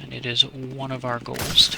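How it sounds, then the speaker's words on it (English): Gunfire crackles in the background of a Sniper Elite 4 battle between partisans and Nazis, sharp bursts cutting through while someone talks over them. "You can hear the gunfire in the background."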